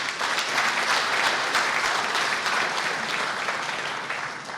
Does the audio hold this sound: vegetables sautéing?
no